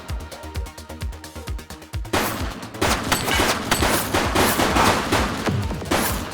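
Gunfire in the police game The Precinct: a rapid string of sharp single shots gives way to dense, sustained bursts of overlapping automatic fire, loud and close, with no speech.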